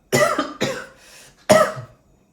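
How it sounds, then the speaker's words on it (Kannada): A person coughs in sharp, loud bursts close to the mic: two quick hacks, a softer breathy pause, then one more forceful cough with no talking. "ಕೆಮ್ಮು ಬಂದ್ಬಿಡ್ತು."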